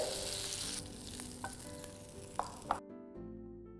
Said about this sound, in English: after we place all the paneer pieces in a pan, we have to cook them till they are golden brown from all the sides